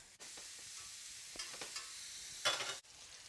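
Ground beef hamburger patties fry in a skillet with a steady close sizzle, a few brief louder crackles and a sharper burst of spattering near the end, with no voices.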